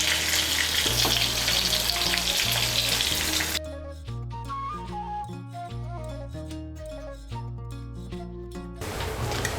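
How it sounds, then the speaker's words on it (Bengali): Pointed gourd (potol) frying in oil gives a dense, steady sizzle for the first few seconds before background music takes over, with the frying hiss returning faintly at the end. "পটলগুলোকে আমি নরম হওয়া পর্যন্ত ভেজে নেব, খুব লাল করে ভাজার দরকার নেই।"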